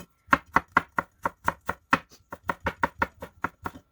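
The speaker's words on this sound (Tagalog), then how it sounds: "Hugasan ng luya at hiwain ng pahaba." Fresh ginger root being cut lengthwise with a knife on a board, giving about eighteen crisp, evenly spaced chops close up with no voices.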